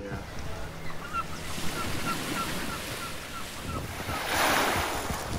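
Waves wash continuously onto a black stone beach with no sand, a soft rushing surf mixed with wind buffeting the microphone, swelling louder near the end.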